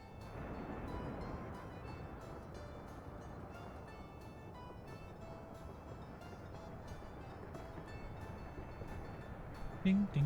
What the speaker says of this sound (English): Not 4 buses, 4 trains, construction trains rather